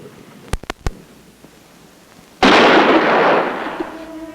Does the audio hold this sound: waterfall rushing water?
no